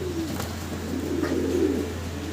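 A fancy Modern pigeon coos in two low, rolling phrases, close up over a constant low background hum, with no voices.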